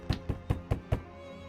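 Five evenly spaced, close knocks on a door in the video game Shadows Over Loathing, crisp and quick, with no talking.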